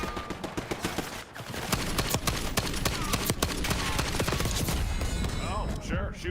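In Call of Duty Black Ops 6, loud gunfire crackles in rapid bursts and sustained volleys, with dense overlapping shots close by and a brief lull before the firing resumes.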